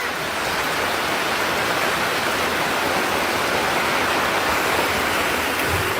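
Rushing floodwater in Jamaica after Hurricane Melissa, a loud, dense, continuous roar of broad hiss with no breaks, close and steady throughout.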